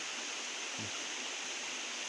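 A waterfall in a forest on a jungle trip gives a steady, even rush of falling water that fills the whole clip at a moderate distance, with no voices.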